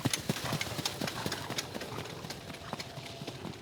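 Hooves of the trotter Nesta Effe clip-clop in a steady, quick rhythm during a training session before the Grand Prix d'Amérique, fairly close and continuous over soft background noise.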